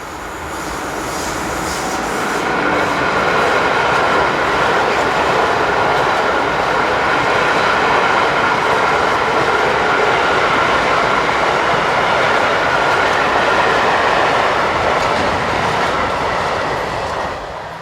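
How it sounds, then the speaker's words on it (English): A hired class 182 locomotive hauling a northbound hopper freight train rumbles steadily past at close range, a long loud roar with rhythmic wheel clatter, swelling in and easing off at the ends. "another Disblock hire loco, this time 182100, heads a northbound hopper train."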